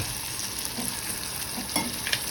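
Poppy seeds (khaskhas) stirred into finely minced chicken in a pan: a soft, steady scraping with a faint sizzle and a couple of brief, louder scrapes near the end, with no voices.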